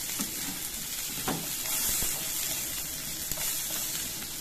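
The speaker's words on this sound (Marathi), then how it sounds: "एक मोठी शिमला मिरची मी घेतली, ती पण अशी मोठं काप करून घेतलाय. ते आता सर्व मी तेलात परतून घेऊ आपण." Large chunks of capsicum fry in hot oil for restaurant-style chilli paneer, giving a steady broadband sizzle with a few brief stirring knocks, fairly close and alone, with no voices.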